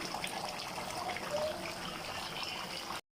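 Water coming to a boil in a pot for chicken biryani, a steady bubbling, trickling wash of liquid sound, close and continuous at moderate level, with no talk.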